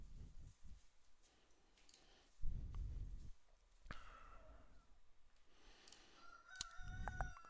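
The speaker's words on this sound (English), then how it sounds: "And listen to the rooster crow." A rooster crows once at a moderate distance, with low rumbling background noise and a few thumps around it.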